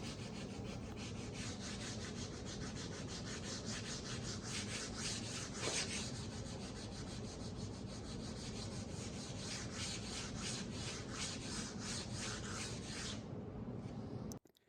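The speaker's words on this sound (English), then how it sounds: "With the majority of the wood filler sanded off with 180 grit sandpaper" Steady, continuous scratchy rubbing of 180 grit sandpaper over wood filler on a modern contemporary dresser, close and even for about fourteen seconds before stopping abruptly at the end.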